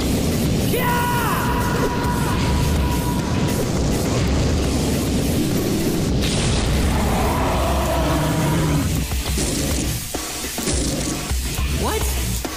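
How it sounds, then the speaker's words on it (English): A heated shockwave fire attack explosion effect from a fantasy radio play rumbles as a loud, sustained roaring blast, mixed with shouting voices and dramatic sound effects. "He paralyzed them with a fire attack?"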